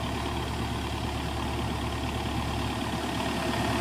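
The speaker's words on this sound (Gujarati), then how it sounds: "જો આ એન્જિન અવાજ સાંભળો" The Cummins diesel engine of an XCMG XC145 LC excavator runs steadily during calibration, a loud, even low rumble close by with no talking.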